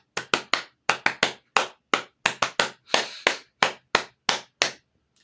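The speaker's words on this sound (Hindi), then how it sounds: "अंत में आप एक थोड़ा-सा ताली बजा लीजिए" Sharp hand claps closing a neuro yoga session, about sixteen distinct claps in an irregular, lively rhythm, close and clear with silence between them.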